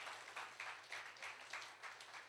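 An audience at a national robotics challenge grand finale keeps up a faint, distant round of applause. The claps come in a steady pulsing rhythm over a low background hum.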